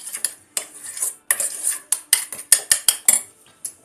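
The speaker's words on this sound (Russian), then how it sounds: "Все это хорошенечко между собой перемешиваем" Stuffing being stirred with a tomato dressing in a bowl, a rapid series of sharp metallic spoon clinks and scrapes against the dish, close and fairly loud.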